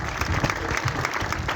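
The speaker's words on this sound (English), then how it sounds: "a big round of applause" A brief, close burst of crowd applause with dense, continuous clapping at an even level and no talk over it.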